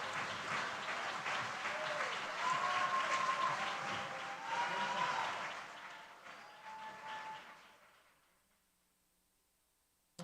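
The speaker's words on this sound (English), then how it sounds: "we've heard a lot of rounds of applause addressed to you" A conference audience applauds in a large hall at a regional conference on women in Latin America and the Caribbean. The clapping is dense and sustained, then fades away into near silence toward the end.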